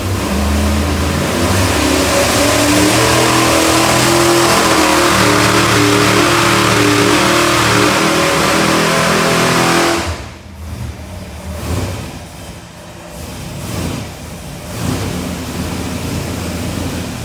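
A 427 V8 with a four-barrel carburetor revs hard on a dyno, a loud sustained roar for about ten seconds that cuts off abruptly, then lower idling rumble and spluttering follows.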